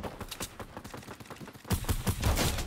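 Fortnite gunfire crackles in quick repeated bursts, growing louder and more intense in the final second, with no talking.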